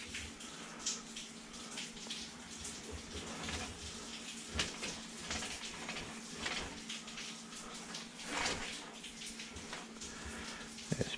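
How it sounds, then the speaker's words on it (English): Running water from an open faucet, a steady broadband hiss and splash with fluctuating intensity, heard at close range without talk, during a drain line check after cutting tree roots. "Let me run the faucet."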